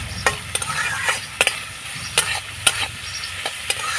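Chopped carrot, capsicum and green chili stir-fried in a pan, a steady sizzle broken by repeated sharp scrapes and taps of the spatula at an uneven rhythm, close and fairly loud with no talking.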